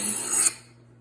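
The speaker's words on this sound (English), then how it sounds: "you kind of want to make sure that stone is sharpening" A kitchen knife is drawn across a whetstone in a single short, gritty scraping stroke that fades quickly, close and without voices.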